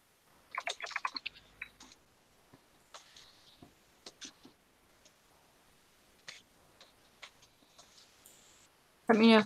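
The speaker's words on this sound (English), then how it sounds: "Let me know if my keyboard becomes a pain in." A computer keyboard clatters in scattered bursts of quick, close keystrokes with quiet gaps between, ending in a sudden loud thump.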